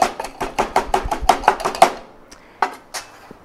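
A muddler pounds cucumber and coriander in a cocktail shaker, a quick run of about a dozen sharp close knocks in steady rhythm, then a pause and two or three last thuds.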